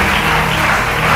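Church congregation applauding during a worship service: dense, steady clapping that fills the space, loud and continuous throughout with no talking over it.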